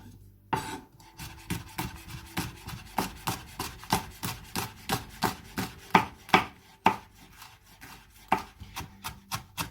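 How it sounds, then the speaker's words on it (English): A knife chops chili finely on a board in a quick, even run of about twenty crisp, close knocks, with no talk. "it's time to chop chili"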